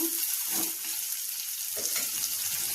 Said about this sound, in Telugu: అలాగే ఒక రమ్మ కరివేపాకు వేసుకొని ఉల్లిపాయలని ఫ్రై చేసుకుందాం.